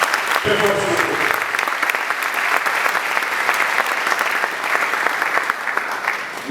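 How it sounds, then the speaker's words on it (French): Warm, sustained applause fills a conference hall in Kinshasa as the crowd claps for the parents present, a short voice cutting in at the start before the dense clapping carries on steadily. "je voulais que nous puissions d'abord applaudir pour les parents qui sont présents dans la salle"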